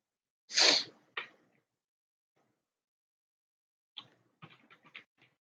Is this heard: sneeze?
yes